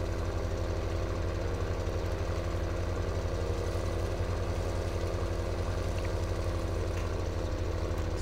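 A farm tractor sits idling while silage and straw are loaded, its engine chugging in a steady low rhythm at moderate distance for several seconds, with no voices.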